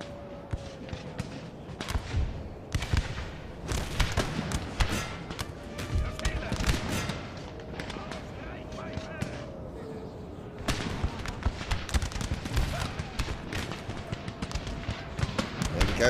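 Massive musket volleys crackle and pop in Napoleon: Total War, with dense bursts of gunfire rolling on and off over a continuous battle din while someone talks over it.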